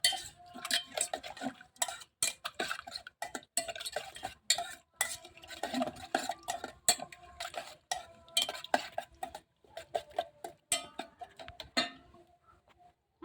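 A salted mixture is stirred well in a vessel. Irregular clinks and scrapes of a spoon against the container come in quick, uneven bursts that are close and moderately loud.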